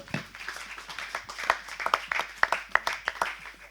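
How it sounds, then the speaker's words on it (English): Scattered applause from a conference audience for panelists at a COP-19 agricultural greenhouse gas session, a modest crowd clapping unevenly with distinct individual claps for a few seconds. "let's give another round of applause to our panelists today"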